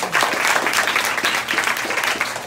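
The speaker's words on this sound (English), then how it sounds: "Everybody, give Olivia a round of applause." An audience bursts into loud, steady applause, close and dense, sustained through the whole moment with only a slight dip midway.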